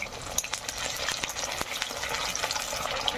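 Stuffed bread fries in oil in a wok with a continuous, close sizzling hiss, broken by light scraping and clicking as the pieces are stirred and turned.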